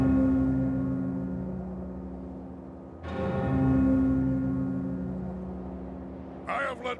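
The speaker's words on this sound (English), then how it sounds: "Sky better have a good reason for ringing that bell" Large bell tolling in the Jade Empire video game, two strong resonant strikes with long ringing decay, the second about three seconds after the first, followed by a brief burst of other game noise.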